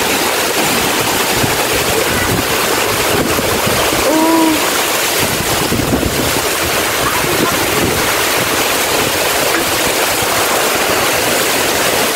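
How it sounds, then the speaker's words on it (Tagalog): Strong wind roars steadily over heavy rain on an exposed mountainside, a loud broadband rush buffeting the microphone throughout, with a brief exclamation from a person partway through. "sobrang lakas po ng ulan. Pati na rin po ng hangin."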